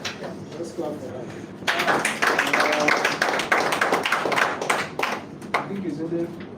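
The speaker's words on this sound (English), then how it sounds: "Let's clap for that" An audience at a nurse-led HIV counseling and testing training session claps in a scattered, moderately loud burst that lasts several seconds, with talk before and after it.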